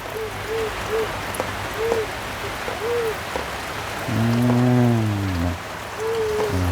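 Rain falls as a constant hiss outdoors, close and moderately loud, while a bird calls repeatedly in the background and a low engine-like drone rises briefly midway.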